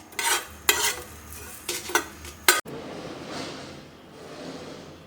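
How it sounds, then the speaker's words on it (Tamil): Mutton liver dry-roasting in a hot kadai with no oil, stirred with a spatula scraping the pan in a few close bursts, followed by a steady soft sizzle. "இது எண்ணெய் ஊற்றாமல் அப்படியே ட்ரையாக வறுத்துக்கலாம்"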